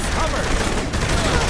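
Loud, dense bursts of gunfire from the video game Saints Row: The Third Remastered, shots packed closely together in a continuous barrage.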